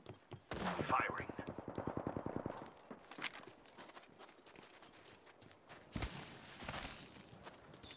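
Rapid gunfire in Apex Legends, a fast burst of loud close shots in the first seconds followed by scattered shots and game sounds, with a voice speaking later.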